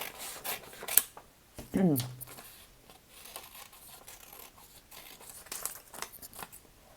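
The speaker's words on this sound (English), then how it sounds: "I'll cut out the hat now" Scissors snipping a paper hat out of a printed cutout for a paper doll at a craft table, heard as quiet, close, intermittent snips and soft paper rustling.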